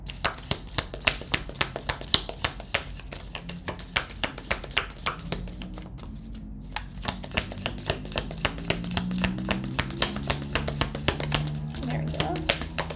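A deck of tarot cards is shuffled by hand in a quiet room, rapid crisp riffling taps repeating steadily, with a person speaking softly over parts of it.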